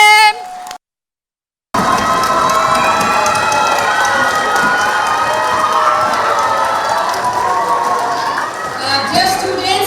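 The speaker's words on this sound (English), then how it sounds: "I think they deserve a standing ovation, our directors. Please clap for them." A school audience of students, teachers and parents cheers and claps for the directors of a children's Pied Piper of Hamelin drama, a loud sustained roar of crowd noise with shouting after a brief gap of silence.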